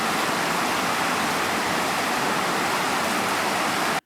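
Waterfall in Michigan's Upper Peninsula, a steady, dense roar of falling water that stays even and close throughout, with no voices, cutting off abruptly at the end.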